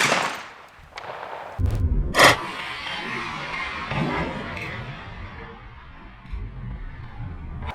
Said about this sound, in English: We've got a Ruger GP100, 6-inch barreled 357 Magnum.